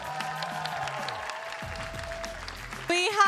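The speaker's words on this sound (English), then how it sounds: "Round of applause." Applause from an audience at an esports medal ceremony, a dense clapping wash mixed with announcer talk and background music, swelling louder near the end.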